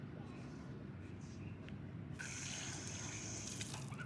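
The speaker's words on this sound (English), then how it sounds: "I'm gonna use this little water fountain and we're gonna have a little drink." A park drinking fountain switches on partway through, its fast jet of water hissing steadily after a quieter outdoor stretch, with no talk over it.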